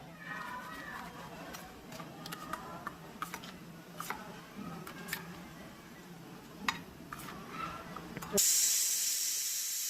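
A pressure cooker simmering a whole-onion curry gives soft ticks and rattles, then near the end bursts into a loud, sustained steam whistle that runs to the finish.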